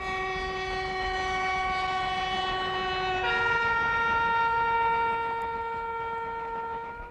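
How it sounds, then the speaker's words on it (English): A British diesel locomotive sounds a steady multi-tone horn, loud and continuous for about seven seconds, with the pitch dropping slightly midway as it passes, over a low rumble of the train. "The greatest of these has been the diesel locomotive."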